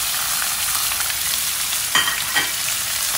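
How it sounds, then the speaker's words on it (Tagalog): Belacan, garlic and chili sauté in a pan for cauliflower fried rice, giving a steady, close sizzle with a couple of brief stirring scrapes near the end. "Tapos isoted lang natin siya hanggang sa medyo lumambot."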